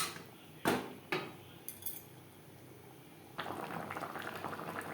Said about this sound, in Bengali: চার পাঁচ মিনিট গ্রেভির সাথে মাছ বেশ ভালো করে ফুটিয়ে নেওয়ার পর